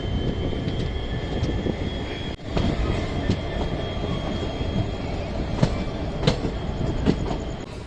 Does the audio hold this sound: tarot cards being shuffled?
no